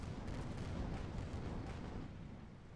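Heavy weapons barrage from a White Rhino unit in a multiplayer skirmish of a mech strategy game, a dense rumbling roll of overlapping booms and blasts, loud and continuous, easing slightly toward the end.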